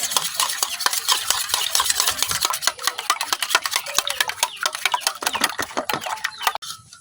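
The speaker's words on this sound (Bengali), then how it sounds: "এখন ডিমটা চামচ দিয়ে খুব ভালোভাবে এইভাবে মিশাই নেন" Egg beaten with a spoon in a bowl, a close rapid series of clinking taps against the sides in a steady whisking rhythm, pausing briefly near the end.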